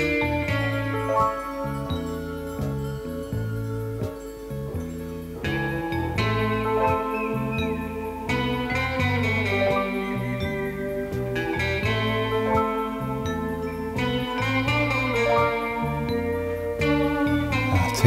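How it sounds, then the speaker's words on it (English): Piano chords play steadily throughout, a clear, sustained keyboard performance with a rhythmic low bass pattern and bright upper notes, recorded indoors during a DIY build of beds from recycled wood. "so you might hear a little bit of piano in the background"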